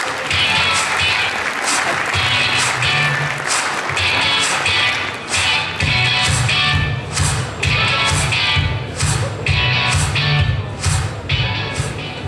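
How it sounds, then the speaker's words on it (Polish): An audience claps at a real-estate talk during a conference marathon, dense applause that turns into rhythmic unison clapping partway through, loud and sustained, with some voices mixed in. "Brawa!"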